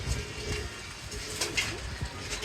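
Pigeons at a rooftop pigeon-keeping setup, with soft cooing under steady background noise.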